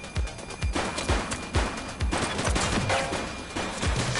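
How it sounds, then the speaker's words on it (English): A close, loud volley of gunshots fires in rapid, uneven succession in The Precinct, a police action video game, with sharp cracks overlapping throughout. "He's shooting!"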